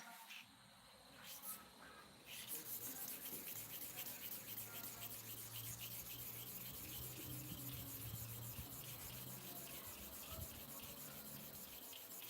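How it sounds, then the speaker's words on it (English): Continuous close scraping and rubbing as an upper hair clipper blade is sharpened by hand, a steady gritty abrasion that starts after a brief pause and runs on evenly. "So I'm starting with the upper clipper blade. I want to sharpen it."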